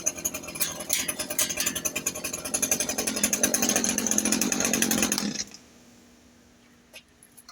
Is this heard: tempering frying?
no